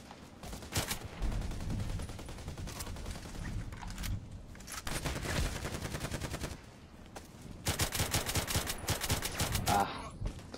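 KelTec RFB rifle in the Contract Wars video game fires in repeated rapid bursts, several long rattling volleys separated by short pauses, close and loud.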